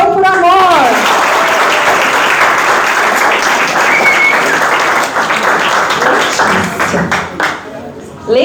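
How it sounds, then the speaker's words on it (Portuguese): A classroom group breaks into sustained applause and clapping after a call to cheer, loud and dense throughout, with a few voices calling out over it and the clapping thinning near the end. "E todo mundo vai aplaudir."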